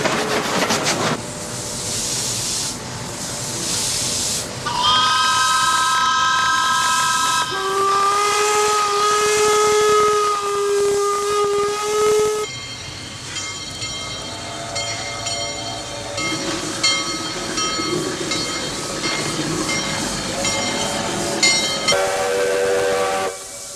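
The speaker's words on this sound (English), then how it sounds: "the week of Steam Expo brought a whole collection of steam trains together" Steam trains at Expo 86 Steam Expo sound loud, drawn-out whistle blasts over a constant hiss of escaping steam, with several whistles in turn and chuffing rail noise between them.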